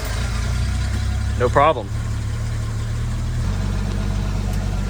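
A Jeep with a crank-no-start fuel problem idles steadily with a low engine hum throughout, a brief voice speaking over it partway through.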